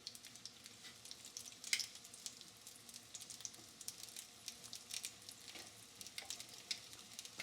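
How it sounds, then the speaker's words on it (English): Plantain slices frying in a pan make a faint, steady sizzle with soft scattered crackles and pops running throughout. "I'm just going to allow those fry for a few minutes"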